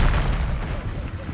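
A loud, booming Expelliarmus spell cast in Hogwarts Legacy bursts close by, with a low rumbling impact that stays dense for about a second. A shouted voice seems to sit within the blast.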